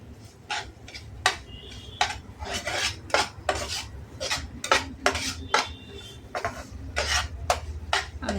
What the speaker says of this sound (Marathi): आता आपण 1 वाटी रवा घालू आणि छान मंद आचेवर भाजून घ्यायचं